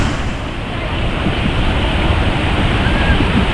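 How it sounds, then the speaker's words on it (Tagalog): A loud, continuous roar of strong rushing floodwater during a typhoon fills the scene, steady and close with no pauses. "kita natin yung tubig dito sa sobrang lakas"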